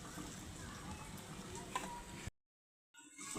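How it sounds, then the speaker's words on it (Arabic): Donut dough fries in hot oil with a steady, close crackling sizzle, cut off abruptly to silence for a moment before the sizzling returns. "هنا نقلو فيها دوكا"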